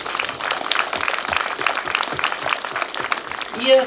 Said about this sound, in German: Einen großen Applaus für all die ehrenamtlichen Hilfen und Helfer von allen,